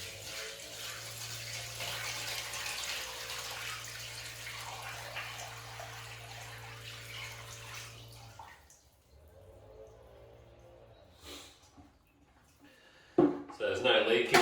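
Water runs steadily from a tap or hose onto a freshly waterproofed, screeded shower floor during a leak test in a bathroom ensuite renovation, with a constant splashing rush that stops partway, followed by faint handling noises.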